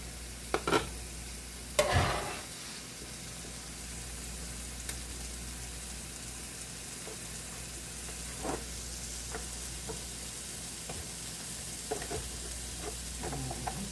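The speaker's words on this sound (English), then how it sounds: "You hear that simmer slow down? That's this griddle." Food sizzles on a hot griddle at a homemade hibachi, a continuous soft hiss broken by a few sharp metallic clanks and scrapes of stirring, loudest near the start; no talking.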